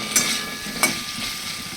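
Steady hiss of spices sizzling in hot oil in a pot, as water is added for a thin potato and fish curry, with two faint clinks of utensils over the continuous sizzle and no voice.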